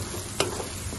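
Spice masala for papdi curry gets stirred in a pan: a soft sizzle of frying runs throughout, with a single sharp scrape of the spoon partway through.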